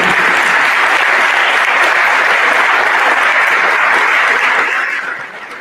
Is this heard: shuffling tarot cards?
no